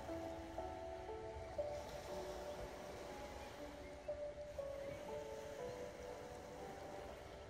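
Steady wash of surf with a low rumble, waves rolling in continuously at moderate distance, with faint tonal hum layered over the water noise.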